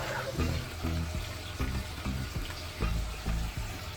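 Blended watermelon juice is strained through a strainer: wet pouring and splashing with soft rhythmic pulses and gurgles, close and moderately loud, and no one speaks.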